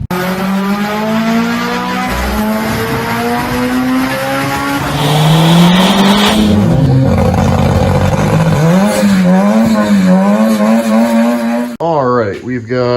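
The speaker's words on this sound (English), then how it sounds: "first car on the new dyno" A Nissan Juke engine revs hard on a new dyno, climbing through the gears in long, loud, close pulls with shifting pitch, then dropping off, with a short burst of talk at the end.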